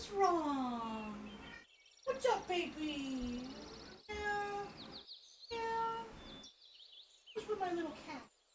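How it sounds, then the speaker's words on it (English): A pet cat meows repeatedly at close range in long, drawn-out, wavering calls with short pauses between them, and a person talks in between. "I hear my cat meow again"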